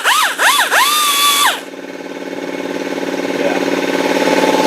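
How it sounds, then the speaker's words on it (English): Small fiber disc grinding a rear drum brake part on a 1998 Toyota Camry: a loud, high whining grind with rising and falling pitch for about a second and a half, then a steady lower motor hum that builds gradually. "I hit it with a little fiber disc"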